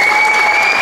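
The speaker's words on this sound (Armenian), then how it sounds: "Եկեք ծափարենք, Էլեն Ասատրյան, բարձր ծափարենք" A television show audience applauding a contestant: a short burst of dense, loud clapping that continues unbroken, with no talking.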